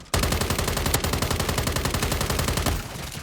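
Automatic rifle fire rattles in a rapid, unbroken burst for nearly three seconds in the Call of Duty MW3 multiplayer map Rust during a Domination match, loud and close, then cuts off abruptly.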